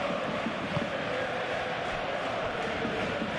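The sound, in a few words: crowd reacting in a Premier League football video game simulation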